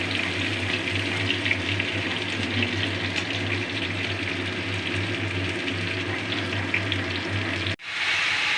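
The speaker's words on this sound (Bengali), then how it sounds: "এটা একটু ভাজা হলে তারপর আমি বাকি সবজিগুলো অ্যাড করব এর মধ্যে।" Vegetables frying in a pan sizzle steadily and close by, a constant bright crackle over a low kitchen hum, with a short cut near the end and no talking.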